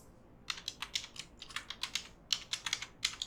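Rapid clicking keystrokes on a computer keyboard, a quick irregular run of about twenty taps in three seconds, close and fairly quiet.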